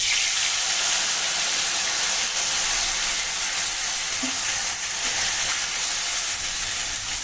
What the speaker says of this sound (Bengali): মশলাটা সুন্দর করে আমি কষিয়ে নেব